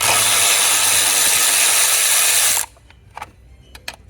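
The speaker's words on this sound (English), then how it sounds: "So what we're trying to do is remove the bolts which are covered by that plastic rail or trim." Ratchet-type tool noise on the intake of a 1999 BMW 528i: a loud, dense mechanical whir for about two and a half seconds, then it stops, leaving a few faint clicks and knocks.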